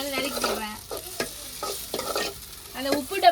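Onions sizzling as they fry in a pan, with a spoon or spatula scraping and stirring in short, uneven strokes close by, alone with no talk.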